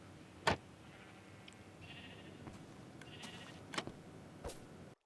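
Sheep bleating in the Minecraft video game, with a few short, sharp bleats standing out at intervals over a steady low background hum; no talking.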